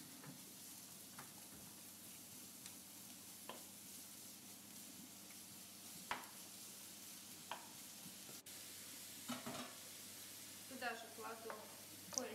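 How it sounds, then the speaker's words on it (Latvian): Vegetables frying in oil in a hot pan for beet-leaf soup give a steady, quiet sizzle throughout, broken by occasional stirring clicks and scrapes, with a person speaking in a low voice at times. "Uzsildu pannu, leju klāt eļļu un visus dārziņus atcepšu."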